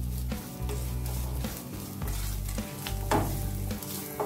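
Sliced shallots sauté in a pan for Kerala-style roasted-coconut chicken curry, giving a steady close sizzle with occasional stirring scrapes and no talking.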